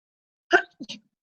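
A single sharp sneeze bursts out, followed by a short voiced sound, then quiet.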